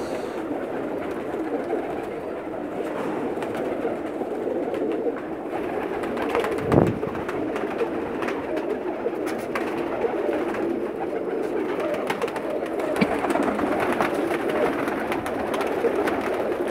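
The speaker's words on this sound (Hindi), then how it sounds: "स्पेशल कबूतर हैं इनके पास।" Pakistani pigeons in Jeddah cooing continuously in low, throaty murmurs, several birds layered together in a steady dense chorus with no talking.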